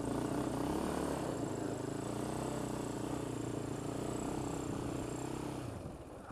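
A Polaris Outlaw 525 quad runs a donut, its engine holding a continuous buzzing drone at steady revs for several seconds before easing off near the end.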